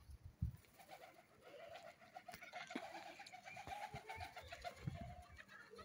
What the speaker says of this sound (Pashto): دې کې دا یو کوتره ده پټه داره